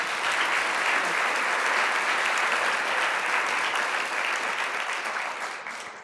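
A large audience applauds after a distinguished Notre Dame graduate is welcomed to speak, producing loud, sustained and dense clapping that tapers slightly toward the end.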